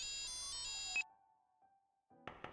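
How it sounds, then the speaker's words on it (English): A phone rings in the Persona 2: Eternal Punishment video game, a faint electronic ringtone tone that comes after louder game music cuts out, followed by a brief burst of sound. "And we got a phone call"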